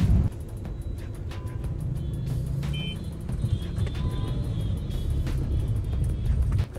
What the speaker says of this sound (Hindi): अब मैं आराम से गाड़ी चलाती हूँ और पहुँचती हूँ